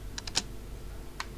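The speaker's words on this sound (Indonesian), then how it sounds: "Mau ngetik salah tuh." Quick keystrokes on a computer keyboard: three fast clicks, a pause, then a single click, faint over a quiet room hum.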